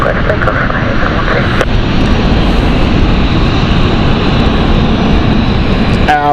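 A Gulfstream business jet takes off from runway 27 at London City, its loud, steady engine roar lasting throughout, with short bursts of radio-style talk near the start.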